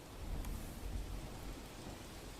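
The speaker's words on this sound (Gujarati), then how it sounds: "ભારે વરસાદથી ખેડૂતોમાં ચિંતાનો માહોલ છવાયો છે।" Heavy monsoon rain falling in a farming village near Botad, Amreli, a dense steady hiss with low rumbling underneath, fairly quiet and continuous with no voices.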